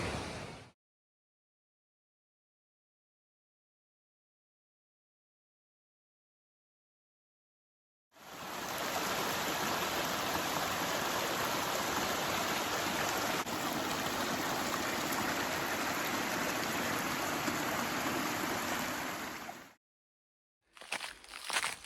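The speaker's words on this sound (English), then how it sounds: "It's just right next to this rushing stream." A steady, broadband rush of Darnell Creek, a fast-flowing Georgia mountain stream in sub-freezing weather, loud and close, running continuously for several seconds after a stretch of silence, with brief noise at the end.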